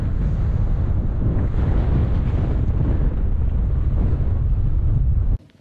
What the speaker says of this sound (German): Ganz schön windig